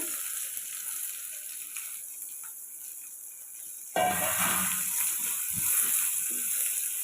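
Roughly chopped onion drops into hot oil in a pan for aloo gobi, bringing a sudden rise into continuous, crackling sizzling after a quieter simmer.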